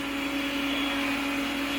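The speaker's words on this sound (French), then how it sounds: "c'est un bon aspirateur, qu'on vient de le recevoir" A newly delivered vacuum cleaner runs steadily at close range, a loud continuous motor whine with a strong tonal hum and no pauses.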